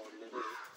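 One short, faint caw from a crow in a village, brief and distant against quiet surroundings.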